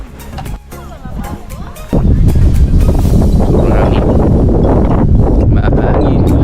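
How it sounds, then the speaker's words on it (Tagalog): Strong wind buffeting a cliff top at the Seven Sisters, quieter at first, then a sudden loud, continuous roar of gusts against the microphone that lasts to the end. "Mahangin."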